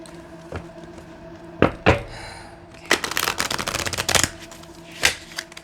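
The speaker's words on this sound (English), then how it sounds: "Let me try to do one more good shuffle." A deck of good-quality playing cards is shuffled by hand at close range, with sharp riffle bursts and flutters, a longer rapid riffling run, then a final snap, with no talking.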